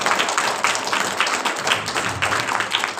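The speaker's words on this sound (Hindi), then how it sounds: "वेरी गुड, तालियां बजाओ इनके लिए।" A church audience claps for the young people, a steady, dense round of applause from many hands, moderately loud and sustained throughout with no talk.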